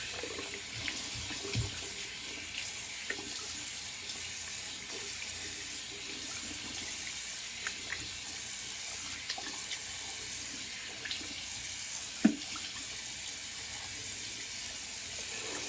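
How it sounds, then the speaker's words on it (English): Cold tap water runs steadily into a sink for a rinse during a wet shave, a constant broadband hiss with a few faint clicks and one sharp knock near the end, fairly quiet and with no talk. "cold water rinse."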